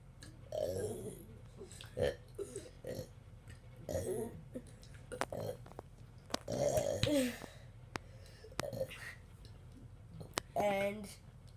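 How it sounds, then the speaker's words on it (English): Several people take turns burping loudly in a burping contest, with repeated short belches and throaty gulps spaced a second or two apart and bursts of talk and laughter between them. "The last one to stop burping for a couple of minutes is out."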